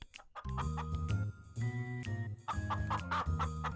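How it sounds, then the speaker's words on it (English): Several chickens cluck close by in quick, repeated bursts, a busy overlapping chatter of hens with no talking. "A little later, Rapunzel heard clucking sounds."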